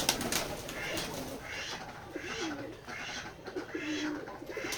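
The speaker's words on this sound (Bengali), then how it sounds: "এই যে আমাদের কবুতরের খামারের কবুতরগুলো দেখতে পাচ্ছেন" Pigeons at a farm in Betikhola village, Keshabpur, Jessore, coo in low, repeated rolling calls at close range over a constant background hiss.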